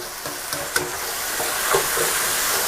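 Chicken and spring onions stir-frying over high heat in a hot pan for chicken with cashew nuts, a steady close sizzle and hiss with a few scraping stirs of the spatula.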